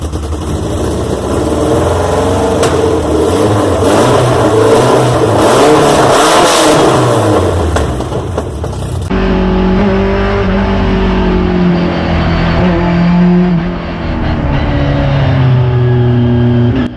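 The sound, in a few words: BMW E30 M3 four-cylinder engine revving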